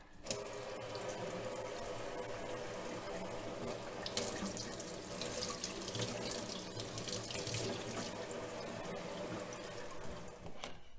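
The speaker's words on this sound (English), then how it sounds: "give it a little rinse under the tap" A strawberry plant is rinsed under a running kitchen tap, giving a steady, even rush of water into the sink that lasts the whole stretch, with no voices.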